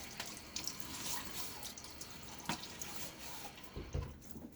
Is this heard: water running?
yes